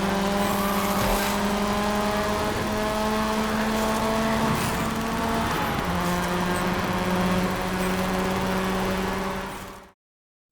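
Street race cars in the game Clutch, a loud sustained engine drone with shifting gear tones, cutting off abruptly near the end.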